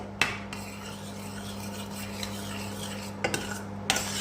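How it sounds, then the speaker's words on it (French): A spoon stirs rice pudding with lemon zest in a pot, giving a few sharp metallic clinks and soft scraping over a low steady hum, with no voices. "On mélange pour qu'il y ait du zeste de citron un peu partout"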